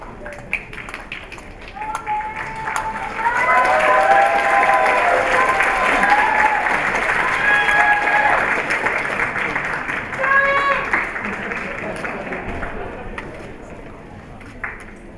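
Applause from the audience for the judges at the Miss Ao Dai Northern California 2015 pageant, a sustained burst of clapping mixed with shouts and whoops that swells and then fades, with voices in the background.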